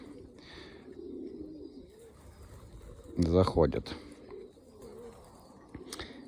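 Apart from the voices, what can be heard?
pigeons cooing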